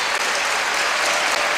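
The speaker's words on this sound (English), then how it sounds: "Boy, this crowd is into it now here at the Gate Center" A packed arena crowd at a men's volleyball match against BYU claps and cheers in sustained, loud applause that fills the space evenly throughout.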